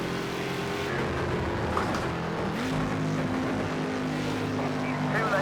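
A deep, rough engine drones steadily with shifting harmonic tones, a Mercedes-Benz 300 SEL race car in Project Cars 2 at Silverstone revving and holding speed, continuous throughout.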